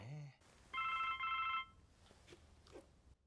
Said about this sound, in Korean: 전무는 코노스케 몰래 어딘가에 전화합니다